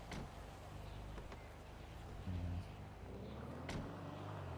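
A car in a video game rumbles and pulls away, a steady low engine drone that swells briefly before easing off.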